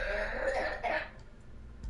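Two boys cough a few times in the background, muffled and somewhat distant, sick at home, with a low steady hum underneath.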